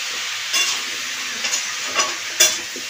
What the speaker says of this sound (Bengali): ভালো করে ঢাকা দিয়ে ভেজে নেবো।